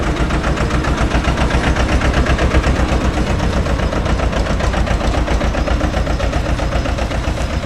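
A Mahindra 265 DI tractor engine running close by, a loud, steady diesel chug with a rapid even beat and strong low rumble, holding constant throughout without voices.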